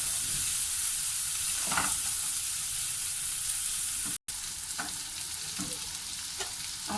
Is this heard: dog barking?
no